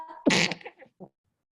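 A single loud, sharp sneeze bursts out close by in a quiet lecture room, followed by a short trailing breath and a faint sound afterward.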